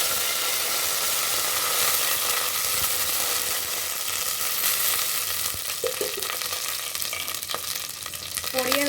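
Curry leaves crackle and sizzle in hot oil for a tomato kuruma, a steady, loud, dense frying hiss running throughout with faint stirring clinks.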